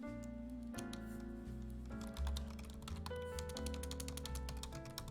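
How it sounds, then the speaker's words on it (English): Typing on a computer keyboard in Google Docs, a quick run of close, crisp key clicks that grows denser partway through, heard over a quiet background of sustained music. "Typing is hard."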